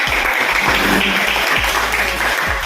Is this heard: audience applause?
yes